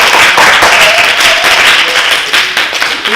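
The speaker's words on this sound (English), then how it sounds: "Keep that applause coming," An audience at a Toastmasters meeting claps continuously to welcome the table topics master, loud dense applause throughout with scattered sharper individual claps.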